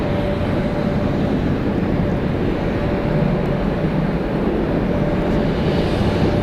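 A Delta Airlines Boeing 757-200 airliner on its inbound flight from Jacksonville at Atlanta Hartsfield-Jackson airport gives a steady, continuous jet roar with a faint whine, unbroken and fairly loud throughout.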